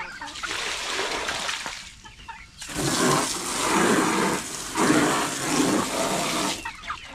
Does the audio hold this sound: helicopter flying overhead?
no